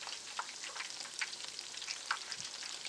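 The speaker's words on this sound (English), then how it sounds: "The hotter the oil, the better for you because you're gonna have a very nice crispiness very fast" Battered onion rings fry in hot oil, a dense, even crackling sizzle with small popping bursts throughout, close up and with no voices.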